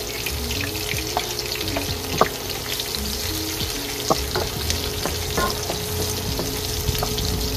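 Garlic sautés in a pan for a sautéed petchay and string bean dish, a continuous close sizzle broken by scattered clinks and scrapes of stirring, with no voices.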